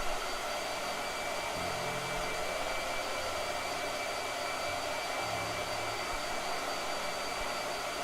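A blow dryer runs continuously at low level, a steady airy whir with a constant motor hum, heard alone without talk.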